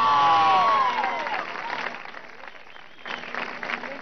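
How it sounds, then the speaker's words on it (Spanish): Applause from the crowd at a political congress for the women of an agroecological school, starting with a whistle-like tone, then a full round of clapping that dips and swells again. "un aplauso para estas mujeres, ¿vale?"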